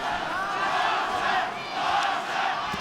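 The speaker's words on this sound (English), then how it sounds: "the majority of the crowd is on their feet and the chant of Loma has gone up here in New York" A boxing crowd in a New York arena rises and chants "Loma" in a loud, sustained roar of many voices that swells and dips in repeated waves.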